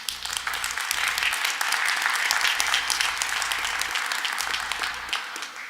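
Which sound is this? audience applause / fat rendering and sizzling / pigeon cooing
audience applause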